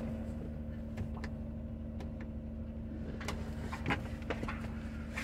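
Steady low rumble of a car on the road on the way to a Menards store, heard from inside the cabin, with faint clicks and small knocks over the continuous engine hum.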